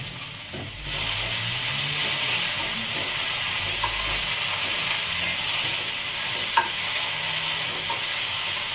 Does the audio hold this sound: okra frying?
yes